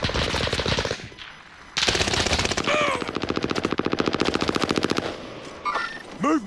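Rapid machine gun bursts rattle out in Call of Duty: Modern Warfare, loud and close, in several sustained strings of fire separated by brief pauses, with a few metallic clinks between bursts.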